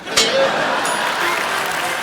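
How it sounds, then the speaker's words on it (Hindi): A live studio audience at a comedy show breaks into applause, a broad, even wash of many hands clapping that swells in quickly and holds steadily loud to the end, with a voice briefly over it. "ठोको ताली।"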